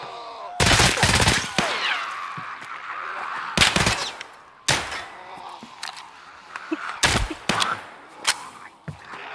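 Bursts of gunfire in Escape from Tarkov during Halloween-event play: several loud, sharp volleys at irregular intervals, with quieter shots and faint chatter between them.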